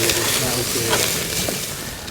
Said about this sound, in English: we're going to start grilling the steaks